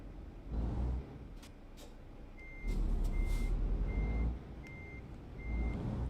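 A truck in Euro Truck Simulator 2 sounds a series of evenly spaced reversing beeps over a low diesel engine rumble that swells and fades, with no speech heard.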